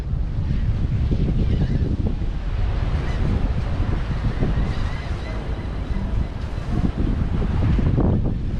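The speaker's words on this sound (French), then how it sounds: "il y a quand même un petit 14-15 nœuds de vent" Steady 14-15 knot wind roars across the microphone aboard a sailboat at sea near the Bahamas, with waves and water rushing beneath a constant loud buffeting.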